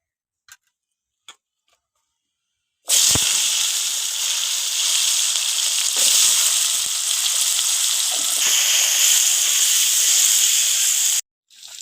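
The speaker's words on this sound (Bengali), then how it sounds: "মাছ ভাজা তেলের মধ্যে আমি আলুটা ভেজে নেবো" Potatoes hit hot oil left over from frying fish and erupt into a loud, close, continuous sizzle after a few quiet taps, crackling steadily for several seconds before stopping abruptly.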